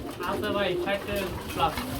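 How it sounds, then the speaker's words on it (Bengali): Many pigeons coo all around at a pigeon farm, with overlapping soft, throaty calls close by and someone talking among them. "আমার ডানে বামে সব দিকে কবুতর কবুতর"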